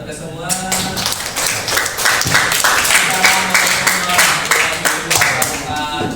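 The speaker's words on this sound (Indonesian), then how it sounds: "Tepuk tangan buat kita semua." A small group claps together at the close of a school teacher-training session, close and loud with distinct individual hand claps forming an uneven rhythm, with voices faintly underneath.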